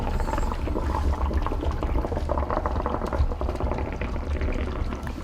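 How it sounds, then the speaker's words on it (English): Dry ice bubbling vigorously in a soap mixture, a dense, continuous, loud churning boil with fizzing and popping carbon dioxide bubbles throughout, close and alone with no talk. "when you can put this into soap mixture, you can make these awesome carbon dioxide filled bubbles"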